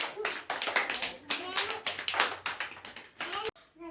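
A group of children clapping in a steady burst of quick, close hand claps that stops abruptly near the end.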